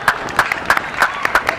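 Brief, lively applause from an audience at a youth conference debate, with crisp overlapping claps from a crowd filling the short moment.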